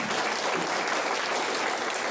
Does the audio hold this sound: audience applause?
yes